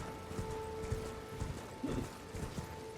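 Horse hooves clip-clopping in Elden Ring, a steady run of close hoofbeats over a faint background hum, with a brief snort-like sound midway and no talking.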